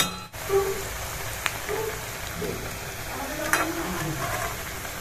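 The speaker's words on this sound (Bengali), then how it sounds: "ওই জন্য আমি গ্যাসটাকে একদম জোরে রেখে পুরো ছাকা তেলে একদম ভাজবো।" Pithe deep-fry in plenty of hot oil over a high gas flame, giving a steady, soft bubbling sizzle with a few faint clinks from a utensil, close by and without talk.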